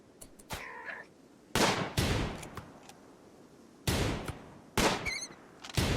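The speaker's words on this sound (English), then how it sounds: "Then, when they get closer, the pistol guy will fire." Rimworld combat: several sharp rifle and pistol shots crack in separate bursts, some single and some doubled, spaced across the stretch with quiet gaps between.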